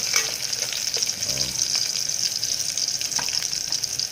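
Aromatics sauté in a pan for sotanghon noodles with smoked fish (tinapa), giving a loud, steady sizzle close up with occasional stirring scrapes and clinks, and no talking.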